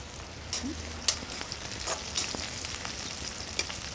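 Sliced large onions, four green chillies and cumin frying in a pan, a steady crackling sizzle with scattered sharper pops, close and fairly quiet, with no talking.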